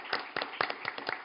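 Scattered clapping from a small audience at a Brazilian book launch, a sparse, faint, uneven patter of individual claps with gaps between them.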